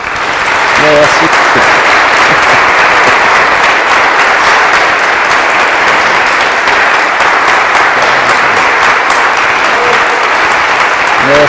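Sustained applause from a large audience at a bishop's tenth-anniversary celebration in a diocese, dense and steady, carrying on for over ten seconds.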